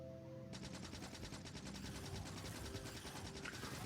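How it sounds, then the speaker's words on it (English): Rapid automatic gunfire from the video game Factorio, fired at an alien nest, runs as a dense, continuous burst of shots with no talk over it. "I'm going to shoot these guys."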